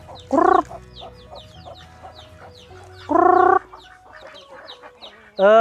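Chickens cluck and chirp busily nearby on a small village farm that also keeps Muscovy ducks, punctuated by three loud, harsh squawking calls.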